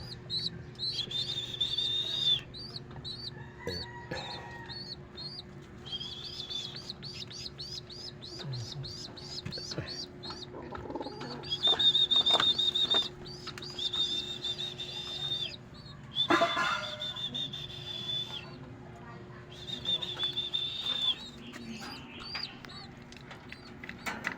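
Small birds chirp and tweet in repeated bursts of short calls, with some fainter calls and a wing flap mixed in, heard outdoors on an overcast, drizzly Sunday morning with no talking.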